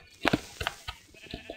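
Sheep in the Minecraft video game bleat in several short, close, fairly loud calls, with a couple of quick bleats at first and then fainter ones spaced apart.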